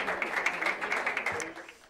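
Brief round of clapping among government ministers posing for a team photo, moderately loud and fairly close, tapering off within two seconds.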